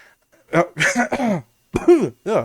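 A quick cough sounds close by, followed by someone speaking in short phrases.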